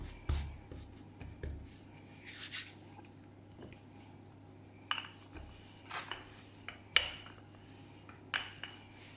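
Hands spread floured beignet dough across a work surface, giving soft, quiet rubbing and brushing strokes with a few light taps and knocks spaced through the stretch.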